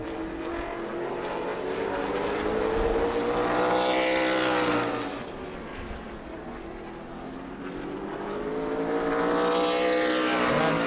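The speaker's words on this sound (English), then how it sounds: "Still the fastest car on the track as Morgan Hoover shuts down on the back stra" Super late model race cars roar past one after another at New Smyrna, engine notes rising and falling as they approach and recede, a steady high-pitched whine throughout.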